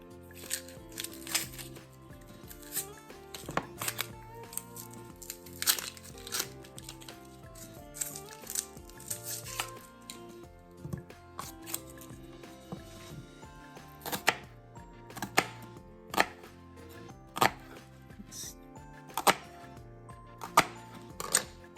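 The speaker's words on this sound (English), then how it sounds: "The first thing that we're going to do is we're going to slice our onion." A knife slices a small onion into tiny pieces on a cutting board, giving a long run of sharp, close chopping taps at an uneven, fairly quick rhythm with no talk.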